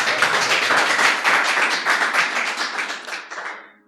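Audience at a Hindi poetry recital breaks into brisk, close applause, a dense patter of many hands clapping that swells quickly and then tapers off over a few seconds.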